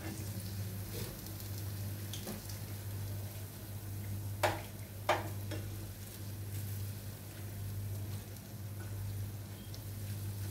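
Urad dal bondas frying in hot oil give a steady soft sizzle over a low hum, with two sharp clinks of a utensil near the middle.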